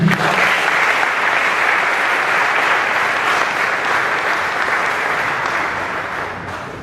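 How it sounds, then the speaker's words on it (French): Loud, sustained applause from a church congregation fills the space, a dense continuous clapping that slowly fades toward the end, with no speech over it. "Est-ce qu'on peut acclamer Jésus?"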